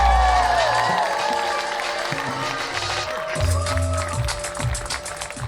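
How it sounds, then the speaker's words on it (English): A comedy show audience claps and cheers as comedian Ali Wood walks on stage, a steady wash of applause with entrance music running underneath. "So please start the clapping, start the cheering."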